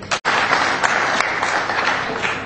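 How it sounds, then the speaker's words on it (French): An audience bursts into sustained, dense applause at a cement factory celebration honouring decorated workers and staff, loud and close, continuing unbroken for the whole stretch after a brief gap at the start. "Veuillez vous joindre à moi pour un grand applaudissement pour nos"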